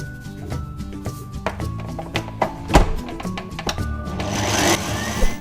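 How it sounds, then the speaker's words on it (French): An electric mixer whirs steadily as egg whites with a pinch of salt are beaten into stiff peaks for a mascarpone tiramisu cream, its motor hum broken by a few thumps against the bowl. "on va faire monter les blancs en neige pour les incorporer par la suite à la crème de mascarpone"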